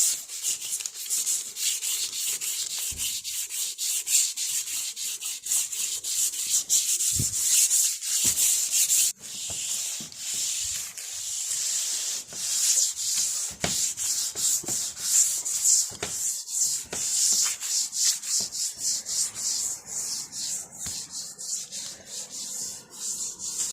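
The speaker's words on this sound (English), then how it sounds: "Just wet sand this by itself" Wet sanding of gelcoat on a Regulator 26 boat during repair: steady rhythmic back-and-forth rubbing strokes with a hissy, gritty texture, close and continuous, occasionally interrupted by brief knocks, no talking.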